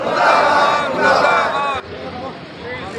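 Farmers at a protest sit-in outside a tehsil office chant slogans in unison, a loud massed crowd shouting continuously for nearly two seconds before dropping to a lower, scattered murmur of voices.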